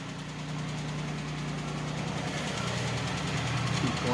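A 1986 Chevrolet Celebrity, original and running, with its engine idling just after a cold start. There is a steady, close, droning idle with a low hum and a faint rough vibration, and no one speaks.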